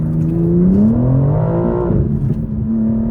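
A 900 bhp stage 2 BMW G82 M4 with traction control off accelerates hard from inside the cabin, the engine note climbing steadily through the revs, dipping briefly and pulling again, loud and close.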